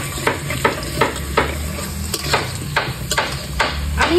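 Potatoes frying slowly in oil with salt and turmeric, a steady close sizzle broken by regular scrapes and stirs of the pan every half second or so, with no talking.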